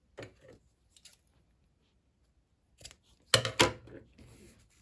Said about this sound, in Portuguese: aqui eu já posso cortar o fio